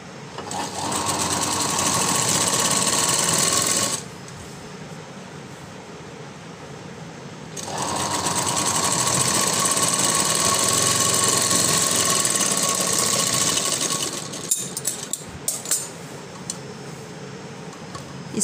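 Stitching along the edge of a floral frock, a sewing machine whirs steadily and close for about four seconds, pauses, then runs again for a longer stretch, ending with a few short stop-start bursts.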